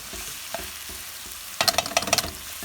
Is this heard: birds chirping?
no